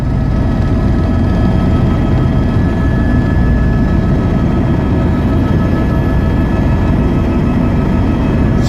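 Steady low rumble of a helicopter flying high above the huge Kumbh Mela gathering at Prayagraj in 2019, a continuous loud drone with no pauses and no talk.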